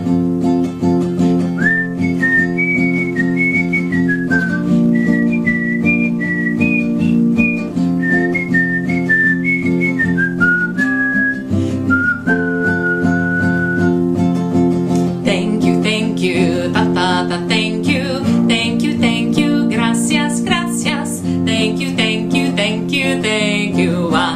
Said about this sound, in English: All right, here's some whistling.